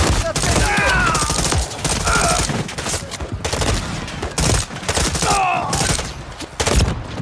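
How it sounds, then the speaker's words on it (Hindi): Machine gun fire from a Call of Duty: Modern Warfare III mission at Gora Dam rattles in dense, loud bursts, broken by brief pauses and crossed by high whizzing sweeps, with the clatter continuing for the whole stretch. "ये मशीन गन भाई"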